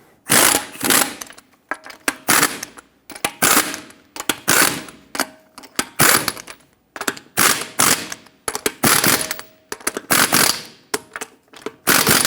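An impact wrench or power tool runs down lug nuts in a cross pattern on a Hyundai Santa Fe wheel, giving a series of loud, close, rattling bursts, each about a second long and separated by short pauses.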